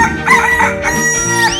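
A rooster crowing in a 3D animal video game, a loud, close cock-a-doodle-doo broken into quick rising and falling calls, with no talk over it.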